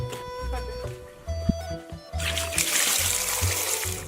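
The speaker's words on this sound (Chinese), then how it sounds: "现在把萝卜洗一洗" Homegrown radishes are washed by hand in water, with dull knocks and sloshing at first, then a steady rush of splashing and trickling water close by.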